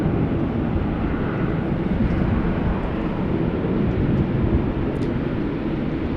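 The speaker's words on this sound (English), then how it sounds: "Meanwhile, over here, Dreamliner's on the move. Air Canada." An Air Canada Dreamliner taxiing at Amsterdam Schiphol Airport produces a steady, loud jet-engine rumble and roar that stays even throughout.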